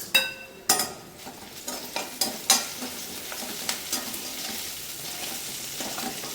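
Food stirred and sizzling in a hot pan, with a few sharp scraping clicks early on over a steady frying hiss; no voices.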